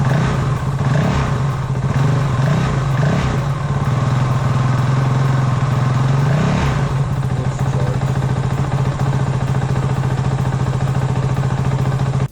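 A 450L engine runs steadily with a low, even drone, then revs a few times in quick bursts before settling back to a constant idle for the rest of the clip.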